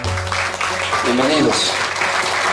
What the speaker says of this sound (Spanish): el aplauso generalizado para todas las parejas que el día de hoy están con nosotros